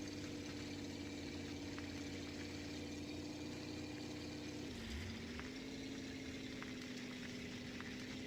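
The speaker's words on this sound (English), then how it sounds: "And also the engine is very flipping loud." Truck engine in the off-road game Spintires MudRunner, a steady low droning hum with a brief dip in pitch midway, fairly quiet and continuous with no talk.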